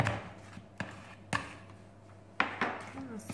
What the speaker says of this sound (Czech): Překrájím si tady to máslo.